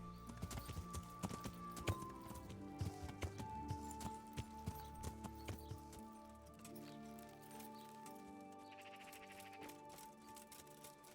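Horse hooves clip-clop at a steady gallop in the video game Kingdom Come: Deliverance, a rhythmic patter over soft in-game music, fading toward the end with a faint whinny-like cue, no talk.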